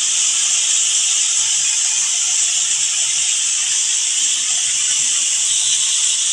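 Ridge gourd is dropped into a hot pan with green chillies and sizzles. The hiss is loud and steady, continuous and close, with no talking.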